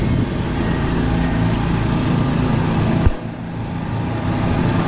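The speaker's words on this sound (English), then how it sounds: "And the car's finally getting picked up on the tow truck." A tow truck loads a 1970 Plymouth Road Runner, giving a steady, loud mechanical rumble with a brief clunk partway through before the drone carries on.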